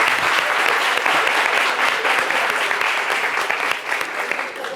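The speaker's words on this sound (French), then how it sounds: "FC Caro, vous pouvez vous applaudir." An audience applauds the FC Caro table football team: dense, loud, continuous clapping that holds steady throughout and thins slightly near the end.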